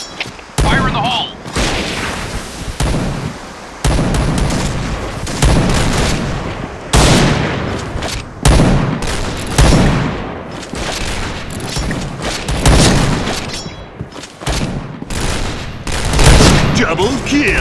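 Grenade blasts and rapid gunfire in the shooter game Point Blank, loud repeated bursts and booms in quick succession with short gaps, game voices calling out between shots.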